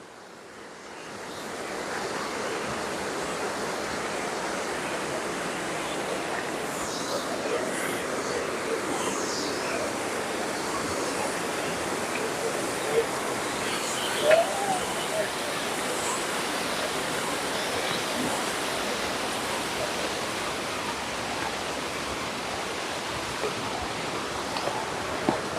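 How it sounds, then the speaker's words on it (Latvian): Mountain waterfall rushing with a steady broadband roar that swells in during the first couple of seconds and then holds constant, with faint wind noise and occasional small bumps. "Ik pa laikam kaut kāds ūdenskritums."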